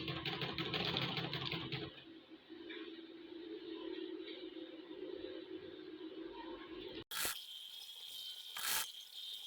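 A sewing machine runs steadily while stitching around a round neckline, a continuous mechanical hum with a brief break near the end before a brighter rattling burst of stitching resumes.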